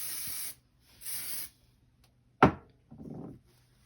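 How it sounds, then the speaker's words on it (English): Two close spray bursts hiss out one after another, each about half a second, then a sharp knock and a softer rustle follow. "hitting it with some spray doesn't hurt"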